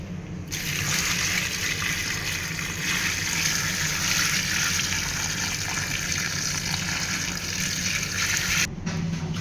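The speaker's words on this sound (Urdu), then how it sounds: "ہم اس میں پانی ایڈ کریں گے۔" Water gushes steadily from a tap into a pot of mutton and potato curry with green chillies, a loud continuous splashing pour lasting several seconds before stopping abruptly.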